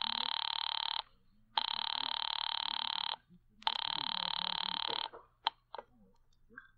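An old-fashioned telephone bell rings in three long bursts with short pauses, loud and close, followed by a few faint clicks.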